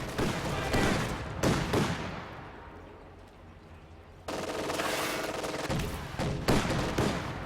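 In Company of Heroes 2, an Sd.Kfz. 222 armored car fires at engineers, with bursts of loud rapid automatic gunfire, a quieter lull, then renewed heavy firing.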